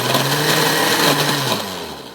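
A blender on low speed purees tamale ingredients, giving a steady motor whine with a faint sliding pitch, loud and close, with no voices over it.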